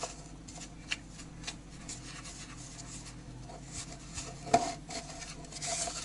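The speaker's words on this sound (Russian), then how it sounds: "Чтобы не поднимать пыль от сухого молока, сначала будем перемешивать ложкой." A spoon stirs dry powdered milk in an old mug while a glaze is mixed for decorating a kulich, giving soft, continuous scraping and rubbing with one brief clink near the end.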